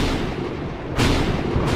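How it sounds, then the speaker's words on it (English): Thunder in the flight game PTFS, a single deep rumbling crash with a sharp second burst near the end, loud and close, with no talking. "Yeah, it's thundery outside."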